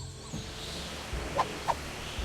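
A parrot in the video game Tales of Monkey Island gives two short, sharp squawks in quick succession, standing out over a low game soundscape with soft rumbling ambience.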